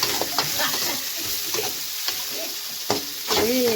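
Chopped onion sizzles and is stirred in hot oil with curry leaves and green chillies, a close, bright frying hiss broken by a few sharp spoon scrapes against the pan.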